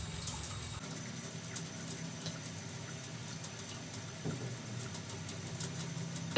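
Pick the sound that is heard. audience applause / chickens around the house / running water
running water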